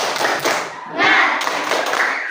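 A group of children in a classroom claps a rhythmic spirit chant, dense overlapping claps and thumps mixed with voices calling out together.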